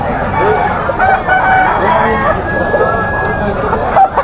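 Roosters crowing and chickens clucking at a busy pet market in Malabon, loud and close, amid a babble of people talking and bargaining in the background.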